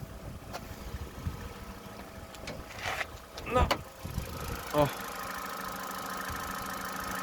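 A 1.4 Opel Astra J engine idling, a steady low mechanical hum heard close up with some handling knocks and someone speaking briefly over it.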